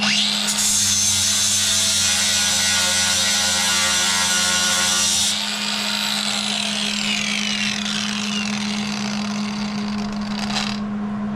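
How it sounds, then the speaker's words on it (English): A grinder's steady high whine comes close and loud as it grinds rust off an RC car body. The pitch shifts partway through as the tool bites into the metal, and it runs continuously without talk. "So we'll just grind her up, see what we ended up with."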